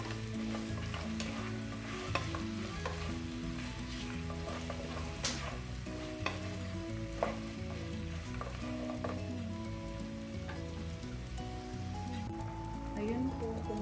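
Beef kare-kare being stirred in a pot after salt is added, a steady bubbling simmer with soft scraping and occasional clinks of the spoon against the pot, close and continuous with no speech.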